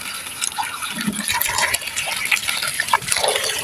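Water pours and splashes steadily over fresh fish being washed on a rooftop, with a continuous gushing, rinsing wash close by and no talk.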